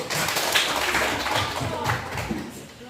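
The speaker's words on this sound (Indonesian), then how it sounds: "Tepuk tangan buat Shin." Students clap for a classmate in a classroom, a close, fairly loud patter of hand claps filling the whole moment, with a few murmured voices underneath.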